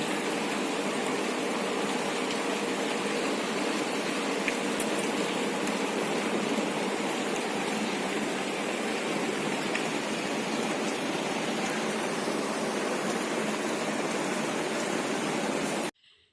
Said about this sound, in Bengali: এখন প্রচণ্ড জোরে বৃষ্টি হচ্ছে